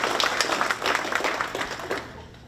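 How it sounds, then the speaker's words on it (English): Guests at an alumni awards luncheon give a brief round of applause, brisk hand claps that thin out and fade away near the end. "Shelley, round of applause for Shelley"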